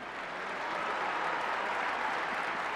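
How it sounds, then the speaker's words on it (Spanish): A crowd applauds steadily to welcome a bishop at a Catholic Mass, dense clapping holding at an even level throughout, heard from a little distance. "recibiendo con un caluroso aplauso a nuestro obispo, don Héctor Luis Sánchez Morales,"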